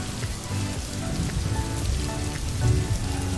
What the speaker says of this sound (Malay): Ya, ini ialah hujan. Lihat air hujan ini.